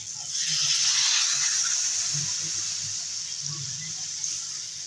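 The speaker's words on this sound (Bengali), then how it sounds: "কষানো হয়ে গেছে, জল দিয়ে দেবো।" Water poured into a pan of sautéed curry, a steady hissing gush that holds for several seconds close by, with a low background hum beneath it.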